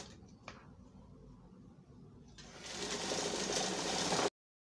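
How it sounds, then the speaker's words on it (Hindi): A sewing machine stitching a kurta starts with a few faint clicks, then whirs into a steady, rapidly rattling run that grows louder before cutting off abruptly. "इसका दामन मार लेंगे सिलाई।"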